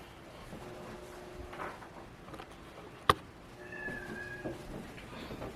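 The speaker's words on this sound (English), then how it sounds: "You can hear my cat." A cat meows faintly in the background of a quiet room, with a sharp knock and some soft rustling nearby.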